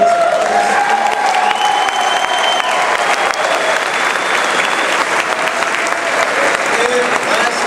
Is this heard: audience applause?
yes